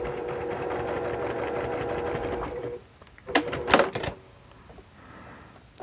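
Sewing machine stitching scrap fabric for a face mask, a steady close mechanical whir for about three seconds, then stopping, followed by a few short clicks and rattles as the fabric is handled.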